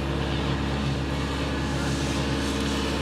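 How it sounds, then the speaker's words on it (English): A constant low grumble of engines drones outside without letup, a steady dense rumble with no talking over it. "Just enjoy the sweet, sweet sounds of grumbling engines."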